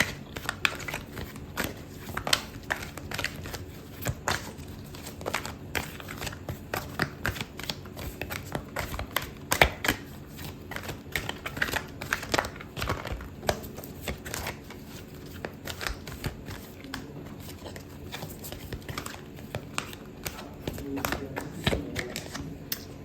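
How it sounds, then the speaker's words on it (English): A deck of tarot cards is shuffled over and over, a steady run of quick, close riffling slaps and flutters lasting throughout, with a card drawn amid faint background voice. "I'm going to pull out a card for your advice, Sagittarius"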